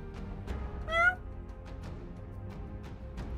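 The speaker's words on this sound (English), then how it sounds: "My cat was like rubbing up against my mic." A cat rubs against a microphone during a Final Fantasy 7 Remake gameplay session, making faint muffled brushing bumps at irregular intervals with a brief, louder squeaky tone about a second in, all quiet and close.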